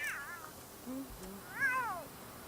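A cat in The Sims 3 lets out two drawn-out, wavering meows, the second one louder, close up over a quiet game background.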